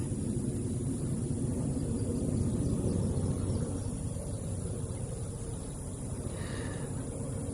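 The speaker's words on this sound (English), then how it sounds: "And I don't know what it is about helicopters, but here's another one." A helicopter passes overhead near the burned remains of an 1824 house, a steady, moderately distant rotor and engine rumble that holds for several seconds with no voices.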